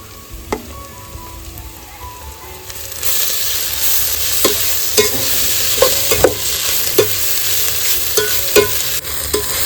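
Ginger garlic paste hits browned onions in a hot pan, and the hiss jumps louder about three seconds in, then settles into a steady close sizzle cut by sharp scrapes and clinks of a spoon stirring, with no voices.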